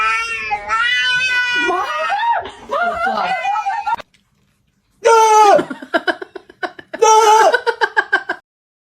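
A kitten meows repeatedly in high, wavering cries, a run of calls, a brief silence, then more short meows in quick succession, close and loud.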